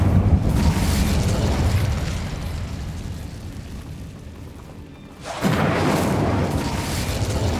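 Incendio fire spell cast in Hogwarts Legacy, a loud close fiery burst with a roaring whoosh that fades over several seconds, then a second heavy eruption of flame that sustains to the end, with no talking.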